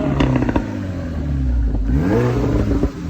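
A VW Golf GTI Edition 30 engine revs up and settles in a rough, throaty burble, close and loud, with a quick blip early on and a second rising rev midway.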